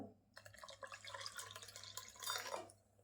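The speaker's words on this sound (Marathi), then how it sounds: "पाणी ओतून घ्यायचं" Water poured into a rice and cucumber batter for Malvani cucumber tavsole, a soft, steady trickle and splash up close, faint overall and swelling slightly toward the end.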